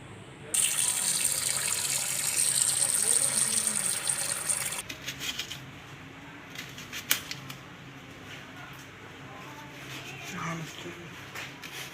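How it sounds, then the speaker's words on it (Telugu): Onion, coriander, green chillies and curry leaves being rinsed under a running kitchen tap, a steady close gush of water for about four seconds before it stops, followed by quieter handling and soft clatter with speech around it. "ఆనియన్ కొత్తిమీర రెండు పచ్చిమిర్చి కొంచెం కరివేపాకు ఇవన్నీ కడిగేసి కట్ చేద్దాము"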